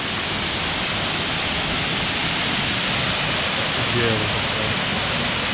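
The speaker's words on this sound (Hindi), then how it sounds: "वाटरफॉल ऊपर से गिर रहा है" A waterfall in a Sri Lankan national park crashes down from above at close range, a dense, steady roar that fills the space, with a voice briefly speaking over it.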